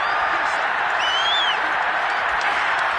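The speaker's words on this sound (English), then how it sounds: "They've got to give out a little applause on that play" Crowd applause at an American football game, a steady, distant wash of clapping and murmur from the stands with no announcer voice over it.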